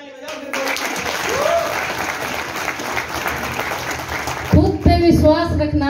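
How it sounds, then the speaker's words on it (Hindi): An audience at a hotel event bursts into loud, sustained applause that swells for several seconds before fading, with a voice speaking briefly at the start and end. "एक बार जोरदार ताली बजाओ"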